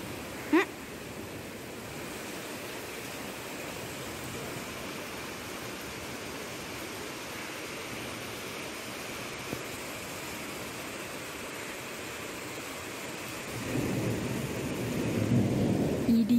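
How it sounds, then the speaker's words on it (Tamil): Heavy rain pours as a steady, dense hiss throughout, and a deep rumble of thunder swells near the end. "இடி சத்தங்கள்."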